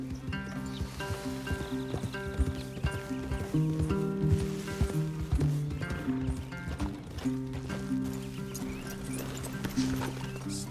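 Horses move in the Western open-world game Red Dead Redemption 2, with steady hoof clip-clops and an occasional whinny under a continuous orchestral score with dense harmonic tones.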